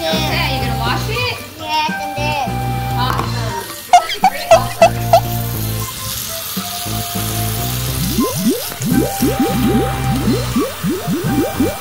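A child washes baking dishes with running water, splashing and squishing close by while a child and an adult talk over it, with a run of sharp taps partway through.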